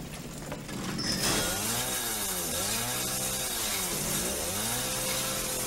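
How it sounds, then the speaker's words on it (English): A chainsaw in the video game Resident Evil 7 starts up and revs loudly, its engine pitch rising and falling in repeated sweeps while it keeps running. "I watched the chainsaw break"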